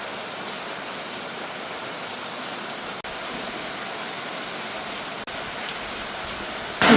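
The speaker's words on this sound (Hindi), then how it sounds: "अभी देखो इतनी ज़्यादा बारिश आ रही है।" Heavy rain pouring steadily outdoors in a rural Indian household setting, a constant loud hiss of drops on surfaces throughout with no talking.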